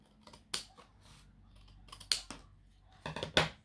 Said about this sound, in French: Et je le coupe au ciseau